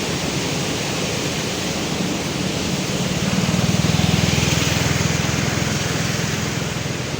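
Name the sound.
river water rushing at a dam in rainy season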